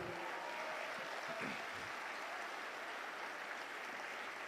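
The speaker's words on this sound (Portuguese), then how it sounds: "Pode aplaudir o Senhor." Congregation applause in a church service, a steady, distant wash of many hands clapping, faint and continuous without breaks.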